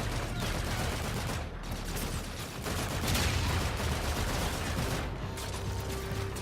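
Rapid automatic gunfire in Call of Duty: Infinite Warfare, dense sustained bursts with brief gaps, loud and up front, blending into other game effects.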